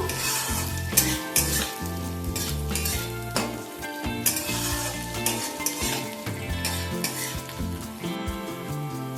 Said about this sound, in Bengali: এগুলোকেও একসাথে হালকা একটু ভেজে নেব